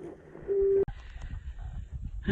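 A telephone tone sounds briefly during a forest hike, a single steady beep under some background noise, followed by faint outdoor rustling.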